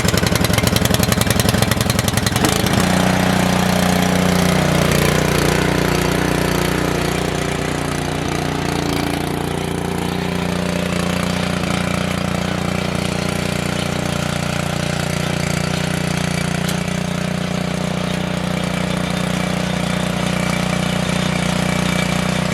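A Champion 19-inch rear-tine rototiller engine runs loud and steady, with a rough sputtering start that settles into a continuous, close mechanical drone.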